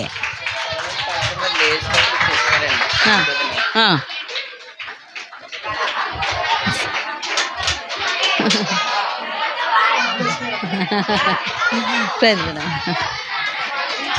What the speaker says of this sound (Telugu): స్పందన ఆంటీ వస్తున్నారు, చప్పట్లు కొట్టండి.